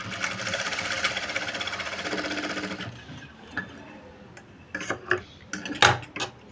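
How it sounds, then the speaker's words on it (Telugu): Sewing machine stitching lace onto a saree blouse back neck, running in a steady rapid whir for about three seconds, then stopping, followed by scattered clicks and clunks of handling the fabric and machine. "ఇట్లా స్టిచ్చింగ్ చేసుకున్నామంటే బాగుంటుంది"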